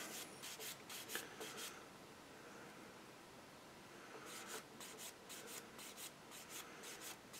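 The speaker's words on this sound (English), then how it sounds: "We'll sand that down smooth" Sandpaper rubs a seam line on the fuselage of an Eduard 1:48 Spitfire scale model. Quick rhythmic strokes come in two bursts separated by a pause, soft and close with no talking.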